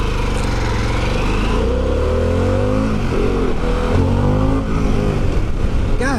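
A Harley-Davidson Pan America motorcycle accelerating hard through the gears, its engine loud and close throughout with rising and falling revs, plus heavy wind rush.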